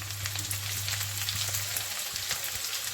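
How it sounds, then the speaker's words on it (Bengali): Onions, about five medium ones, frying lightly in oil in a pan for a fish chorchori: a steady, soft crackling sizzle with small pops and a low hum beneath, no voices. "আমি এটাকে একটু হালকা ভেজে নিচ্ছি"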